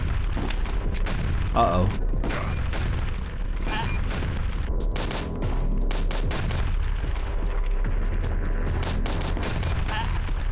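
A tank battle in the retro shooter HROT, with rapid bursts of gunfire, booming explosions and heavy cannon blasts packed densely and loudly throughout, and a brief spoken exclamation.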